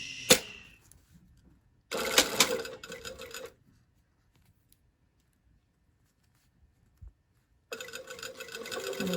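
A sewing machine stitches a shirt sleeve along an earlier seam line, running in two steady bursts of a few seconds each with a near-silent gap between them and a sharp click at the very start.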